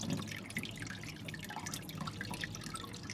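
Water runs and drips steadily while frozen mullet fish is washed by hand, a close, continuous splashing trickle with no voices.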